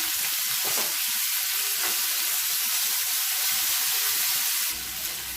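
Urad dal and chana dal sizzle loudly in hot oil with a dense, continuous crackling hiss that cuts off near the end.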